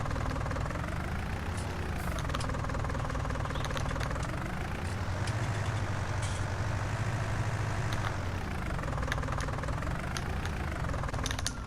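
A large diesel tractor engine in Farming Simulator 19 rumbles steadily and loudly, its pitch rising and falling a few times as it revs, with no talking.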